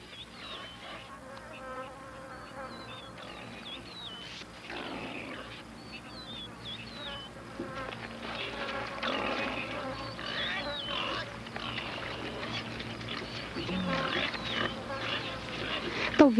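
A swarm of blood-sucking insects in the Okavango Delta drones with a dense, steady buzz that swells louder over the span, layered with low animal grunts and mixed with occasional narration.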